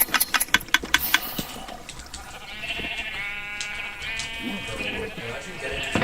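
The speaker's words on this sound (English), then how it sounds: "Now it's time to load the sheep into the farm." Minecraft sheep bleat in the game as they are loaded into a farm, with several quick wavering bleats layered over a low engine-like drone and a few sharp clicks at the start.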